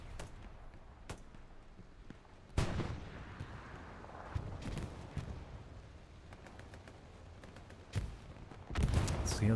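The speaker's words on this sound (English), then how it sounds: "But Nest gets split in half by a nade" Grenade blast amid battlefield gunfire in the WWII shooter Hell Let Loose, with sharp distant shots and several heavier explosions at irregular intervals, faint and fairly far off.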